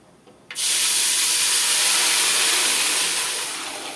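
Tamarind extract poured into hot oil and masala paste for a spicy fish curry, bursting into a loud, steady sizzling hiss that starts suddenly and slowly eases toward the end.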